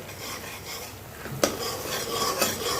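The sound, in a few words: spice mixture being stirred and sautéed in a pan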